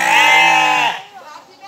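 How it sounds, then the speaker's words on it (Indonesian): A merino sheep from Australia, kept on a sheep and goat farm in Lampung, gives a loud, close bleat that lasts almost a second, then quieter farmyard sound follows. "Kambing dari mana nih? Ini dari Australia, merino."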